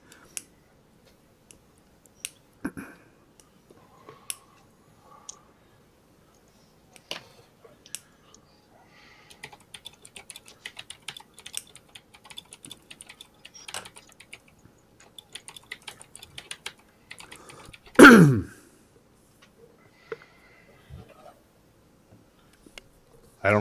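Sparse bursts of computer keyboard typing, quick clustered keystrokes with pauses between, close and fairly quiet, with one louder thump near the end.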